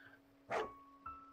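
A dog in the video game Final Quest gives a single short, fairly quiet bark, followed by a fainter second yip, with a soft tonal game hum underneath.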